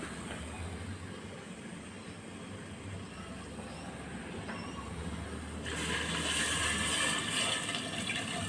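Water poured into a cooking pot of chicken tinola with papaya, a steady rushing fill that swells louder toward the end, with no talk.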